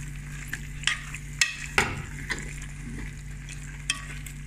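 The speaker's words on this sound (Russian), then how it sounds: "Добавила огурчики, перемешиваю и так вот немножко протушим вместе." Cucumbers are stirred into stewing meat in a pan for Tatar azu, with scattered scrapes and clacks of a utensil over a soft sizzle and a steady low hum.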